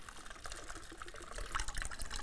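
A Cadillac Margarita cocktail is poured into a champagne glass, giving a soft, steady liquid trickle and splash for a couple of seconds, fairly faint and heard alone.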